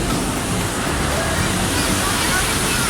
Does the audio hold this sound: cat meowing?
no